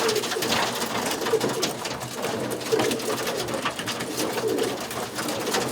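Roller pigeons in a loft box coo softly and repeatedly, a gentle rolling burble from several birds close by with no talk over it.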